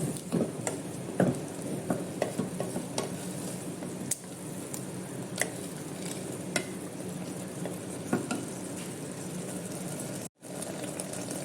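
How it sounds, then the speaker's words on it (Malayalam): Milk is poured into a pan of carrot halwa and stirred, giving a steady close scraping and soft sizzle with scattered spoon clicks, continuous throughout, with a brief dropout near the end. "ഒരു കപ്പ് പാല് ഒഴിക്കാം."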